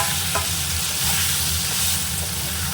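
Shrimp fry in a pan for a leafy greens curry, producing a loud, steady sizzle with faint stirring scrapes throughout.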